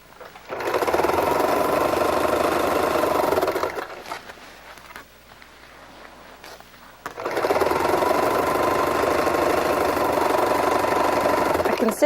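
A domestic sewing machine stitches a quilted placemat seam through fabric and batting, running in two steady, fairly loud bursts with a quieter pause in the middle where the needle stops to pivot.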